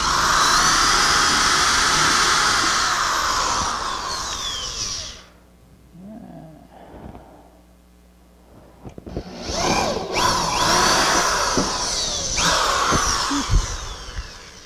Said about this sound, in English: sharp drill bit do make a difference.